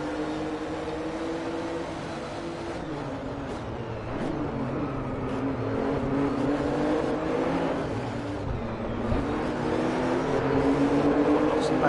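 A car engine hums steadily while driving in Driveclub VR, a continuous mid-pitched drone that rises and falls gently with throttle, without sudden bursts, heard close and uninterrupted throughout.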